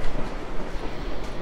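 A narrow-gauge train of the Cumbres and Toltec Scenic Railroad runs over a mountain pass. It makes a steady, close rumble with a rough rolling clatter and no voices.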